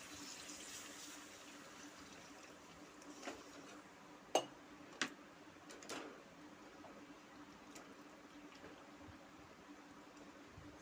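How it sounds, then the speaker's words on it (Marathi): Water pours steadily into a pot, with a few sharp metallic clinks partway through and faint birdsong in the background. "पाणी टाकून घ्या आता"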